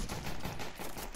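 Gunfire in a video game sounds as a rapid, dense burst of shots, loud and continuous for about a second.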